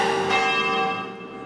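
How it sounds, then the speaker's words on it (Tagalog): The bell of Cubao Cathedral rings with a rich, sustained metallic tone that lingers and slowly fades, heard alone without voices. "Sa Cubao Cathedral, pinatunog din ang kampana"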